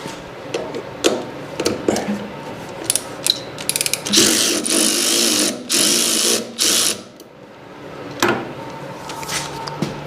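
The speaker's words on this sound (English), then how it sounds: "Let me try taking that jam nut off." A wrench works a jam nut loose on a Simplicity snow blower, producing close, rapid ratcheting clicks and metallic mechanical rattles in bursts, with a louder sustained grinding stretch in the middle.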